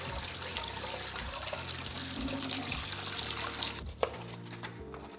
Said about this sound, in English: So now all we're doing is rinsing them in cold water to stop the cooking.